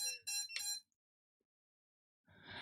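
An FPV racing drone's buzzer sounds three quick, loud, shrill beeps in a row, then falls silent. Faint noise rises at the very end.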